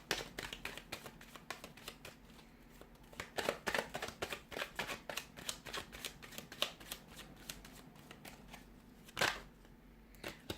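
Tarot cards being shuffled by hand in a continuous run of crisp riffling flicks and soft slaps, close and steady, with louder bursts partway through and no talking.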